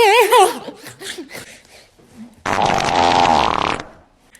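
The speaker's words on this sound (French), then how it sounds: "T'arrêtes pas de péter!" Voices laughing and squealing, then a long, loud, buzzing fart lasting over a second, very close.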